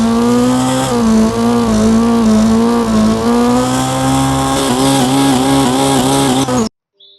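A car engine in the video game Street Pro revs hard and unbroken, rising and falling in pitch with a loud, buzzy tone close up, then cuts off abruptly near the end.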